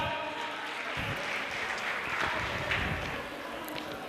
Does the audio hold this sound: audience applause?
yes